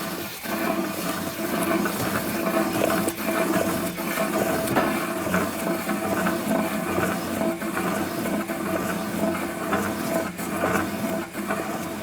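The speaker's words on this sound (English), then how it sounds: "I'm just going to take the rear wheel, I'll do it on both sides, and probably spin it through about 20 times." A car's rear wheel is spun by hand over and over to churn flushing oil inside the rear differential, a continuous whirring, grinding rumble with a steady rolling rhythm, loud and close, with no talking.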